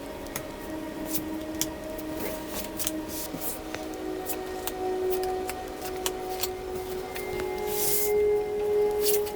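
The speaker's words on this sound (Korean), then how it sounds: "세 번째 카드 고르신 분들 카드 뽑을게요." Tarot cards are shuffled and drawn during a reading, with crisp slides and light snaps repeating in a steady flurry at close range and no talking.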